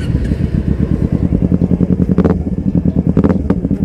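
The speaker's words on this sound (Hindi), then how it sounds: "मतलब इस सेगमेंट का होके भी, 250 सेगमेंट का होके भी इतना लाउड एग्जॉस्ट है।" A Kawasaki 250cc motorcycle idles close by with a loud exhaust, chugging in a rapid steady pulse with a couple of brief revs, and no voices heard.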